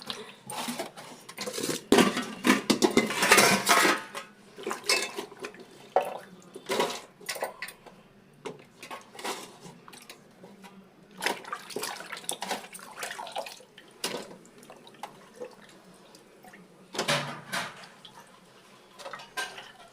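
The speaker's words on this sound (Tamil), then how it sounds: "காய்கறி நல்லா வாஷ் பண்ணியாச்சு" Vegetables for a Mattu Pongal sambar and poriyal are washed in water, with irregular splashes, sloshing and clinks of a vessel in close, loud bursts separated by quieter pauses.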